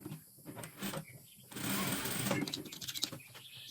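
A sewing machine runs in short bursts and then one longer steady run while stitching a placemat corner, with quiet pauses between bursts and faint talk around the stitching.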